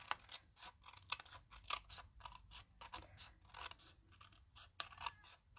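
Scissors snipping through card stock in quick, crisp repeated cuts, close and quiet, a steady series of sharp crunchy snips with no voices.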